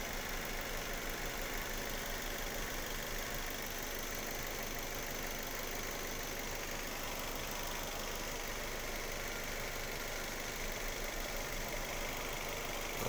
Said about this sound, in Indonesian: Kita ukur langsung aki